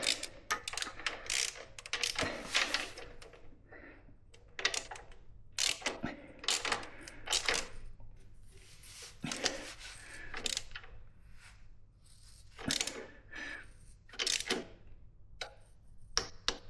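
A torque wrench tightens the bolts on Twin Pegs footpegs fitted to an Aprilia Tuareg 660 motorcycle, giving repeated close ratcheting clicks and metallic rubs in short bursts with brief pauses between strokes.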